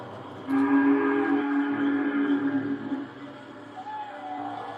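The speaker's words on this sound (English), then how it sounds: "Then the sound of Timothy's whistle was heard." A steam engine's whistle in a Thomas the Tank Engine story sounds one long, loud, sustained tone that then tapers off, with a quieter rumble beneath it.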